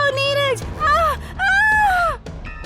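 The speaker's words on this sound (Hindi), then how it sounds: "फिर एक भयानक चीख गूंजी।" A woman's terrified scream in a horror story, drawn-out wailing cries at high pitch, loud and close, rising and falling in three long bursts with brief gaps between them.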